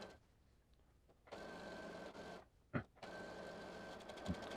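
A sewing machine runs a zigzag stitch down a button-down shirt from sleeve edge to hem, steady mechanical whirring in two long runs split by a short pause, close and fairly quiet, with no talking.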